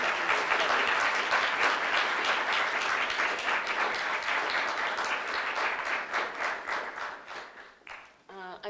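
Warm, sustained applause from a lecture audience greets a professor, a dense steady clatter of many hands that thins and tapers toward the end, where a voice begins to speak.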